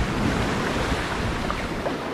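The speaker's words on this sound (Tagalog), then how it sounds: "Ayun o, may malaking alon" A big ocean wave surges and washes across Kamandag Beach, a broad, steady roar of churning surf mixed with wind buffeting the microphone, with no voices.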